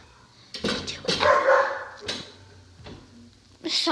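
Several dogs bark in sharp, loud bursts close by, with a couple of separate outbursts spread over a few seconds and a person's voice mixed in.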